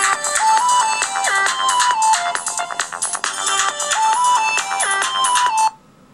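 A song ringtone plays from a Droid phone, a loud melodic electronic tune with stepping notes for several seconds, then stops suddenly.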